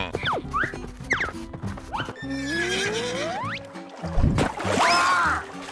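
A horse whinnies loudly amid busy background music and effects, with faint clopping hooves early on.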